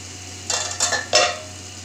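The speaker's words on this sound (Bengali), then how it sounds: "এইবার আমি ঢাকনাটা খুলে দেখব বেগুন হচ্ছে কিনা।" A pot lid on eggplant cooking in a pan gives three quick metallic clinks and scrapes in close succession, close and fairly crisp against a quiet kitchen background.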